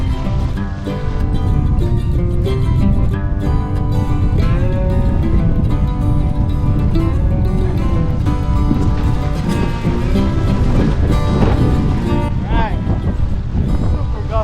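A wind gust on open water while windfoiling roars steadily into the microphone with rushing wind and water noise, and someone talks over it close by.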